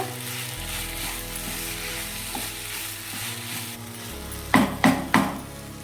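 Potato masala sautés in oil in a pan, a continuous gentle sizzle with low steady hum, then three sharp metallic knocks of a spoon against the pan near the end; no talk.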